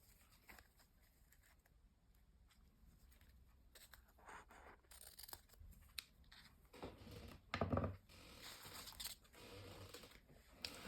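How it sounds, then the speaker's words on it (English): Small Fiskars scissors snip through ribbon in quiet, close crafting work, with scattered soft cuts and rustling that grow busier toward the end, faint overall. "I've had these little scissors for, my goodness, Fiskars, Finland, and they are the best scissors I have ever had"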